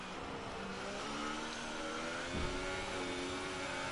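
Race car engines in a sim racing league event at Germany, a steady faint whining drone of several cars with a brief low thump, heard at a distance.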